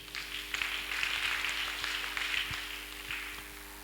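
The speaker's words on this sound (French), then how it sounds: "Une acclamation au Seigneur" A church congregation applauding in acclamation of the Lord during a French-language sermon, a soft, fairly distant wash of many hands clapping that holds steady, with a faint low hum underneath.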